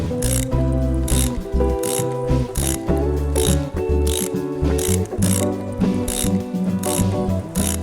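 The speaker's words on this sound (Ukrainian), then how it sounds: "Підтягуємо болти кріплення кришки підшипника." A ratchet wrench tightens the mounting bolts of a bearing cover, giving a rapid, loud, close series of clicking ratchet strokes in regular bursts.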